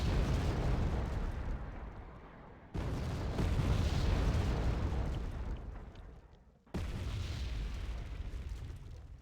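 Artillery barrage in the Wargame: Red Dragon strategy game: dense, rumbling booms and blasts merge into a continuous roar, with two sharp new onsets of heavy fire breaking through, loud and sustained.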